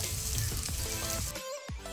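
Small potato pieces frying with onions and turmeric in a pan, a steady close sizzle with a few clinks of stirring and a brief quieter moment near the end.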